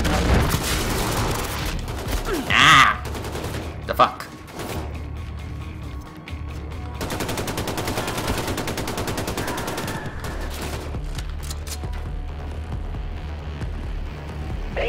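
Gunfire in the Wolfenstein II video game, including shotgun blasts: a couple of sharp, loud shots early on, then a dense layer of game combat noise, mechanical clatter and ambience.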